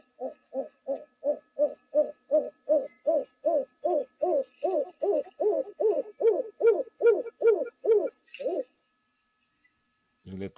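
A pigeon coos in a long, steady run of about twenty evenly spaced soft hoots, close and clear against a quiet background at a waterhole, ending with a brief pause.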